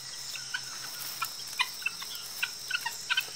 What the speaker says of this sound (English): they live in noisy flocks, clucking to help keep the group together